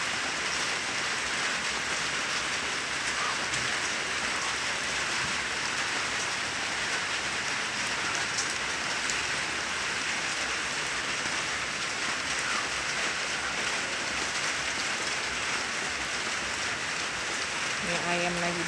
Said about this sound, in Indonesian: Seperti ini hujan di pagi hari.